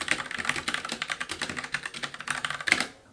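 Close-up typing on a Glorious Modular TKL keyboard, quick clattering keystrokes in an uneven rhythm, with rattly stabilizer clacks and a louder key strike near the end.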